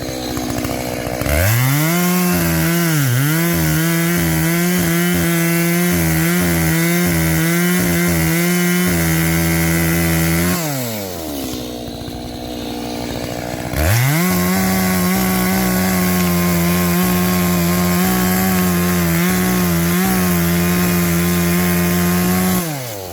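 A chainsaw roars loudly up close, its engine pitch dipping as it bites into wood, briefly easing to idle before cutting again for a long stretch.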